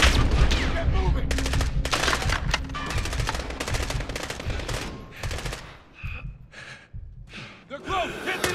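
Bursts of automatic machine gun fire rattle through a Call of Duty Modern Warfare 2019 firefight in fog, loud rapid volleys close by, alternating with short gasps and breaths, then scattered shots.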